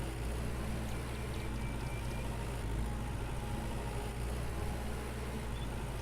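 A tractor engine in the Farmer's Dynasty farming game runs steadily with a low, constant rumble while pulling a small cultivator across a field, droning on unchanged with no talk.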